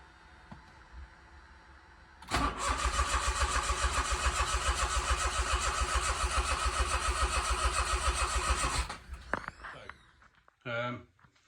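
Smart Fortwo 450 engine cranking steadily for several seconds without catching, a loud rhythmic churning that then cuts out, followed by a short second burst and some clatter.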